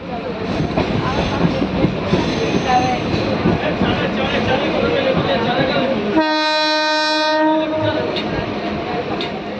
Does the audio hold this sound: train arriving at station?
yes